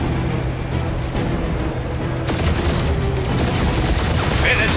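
Gunfire rattles through a firefight in the game Marvel's Guardians of the Galaxy, rapid bursts and booming shots in a loud, dense, continuous barrage, with character voices speaking over it.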